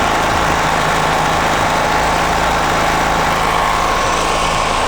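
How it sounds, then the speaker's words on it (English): A Wolf WPX7500E 7000W 15HP petrol generator idling close by, a steady loud mechanical drone with a dense low rumble and broadband hiss that holds constant throughout, with no talk over it. "The noise level is quite typical of this kind of generator."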